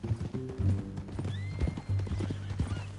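A horse on a ranch clip-clops along with hooves striking close by, and it gives a loud neigh partway through. A voice is heard briefly.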